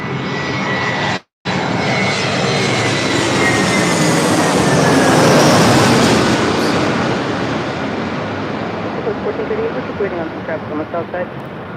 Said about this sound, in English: 831 coming in from Minneapolis on an A321